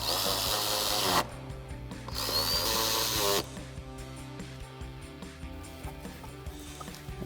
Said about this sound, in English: we'll grab our 8mm socket and tighten these down